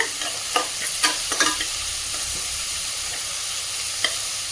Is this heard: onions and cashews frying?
yes